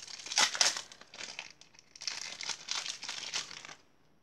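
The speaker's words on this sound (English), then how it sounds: "Let's open these packs quickly" Foil wrappers of Topps 2001 hockey card packs crinkle and tear open in continuous close, busy bursts of rustling that last several seconds before stopping.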